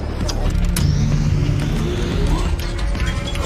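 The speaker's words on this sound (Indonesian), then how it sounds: "untuk memulai menyalakan ulang mesin bogi secara manual" A film scene in which the Snowpiercer train's bogie engine is manually restarted has a deep, loud mechanical rumble with clanks and heavy knocks and a rising whine over the low drone.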